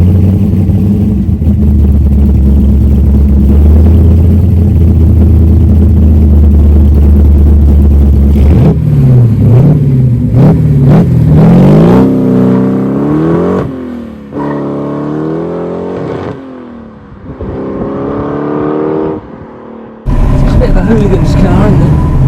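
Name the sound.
Austin A35 car engine revving through its modified exhaust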